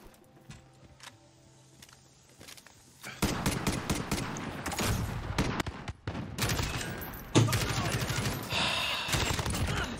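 Nearby gunfire in Call of Duty Modern Warfare 2019 multiplayer, faint at first and then loud, sharp bursts of automatic fire crackling repeatedly, with a person talking over it.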